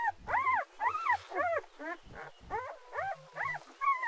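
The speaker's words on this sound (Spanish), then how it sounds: "una loba atiende a sus cachorros" An Iberian wolf mother tends her three-day-old cubs in a rocky den, with a run of high, wavering whimpers and whines repeating in quick bursts, close and fairly loud.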